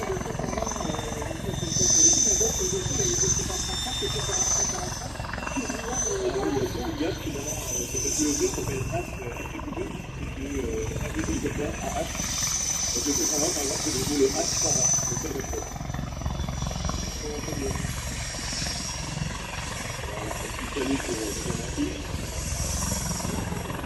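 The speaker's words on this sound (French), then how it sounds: "J'arrive pas à le cadrer, l'hélico." A helicopter's steady rotor drone and engine hum fills the scene continuously at an air show, with people talking over it.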